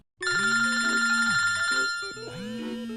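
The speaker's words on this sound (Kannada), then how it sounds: "ಫೋನು ರಿಂಗಣಿಸಿದಾಗ" A telephone rings twice in a clear electronic warble, each ring a sustained tone pattern, close and loud with no talking.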